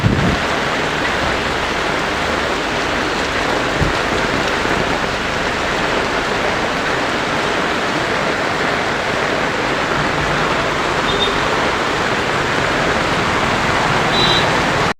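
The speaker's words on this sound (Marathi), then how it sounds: "खूप पाऊस पडतोय" Heavy monsoon rain pours down steadily at the Khed bus station in the Konkan region, a dense, unbroken hiss that stays loud and even throughout with no voices.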